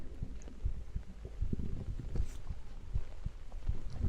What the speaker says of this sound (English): You hear my heartbeat?